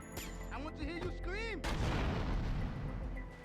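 A car explodes in GTA Vice City with a sudden loud boom, followed by a rumbling, crackling burn-off, after a stretch of a voice speaking over game sounds.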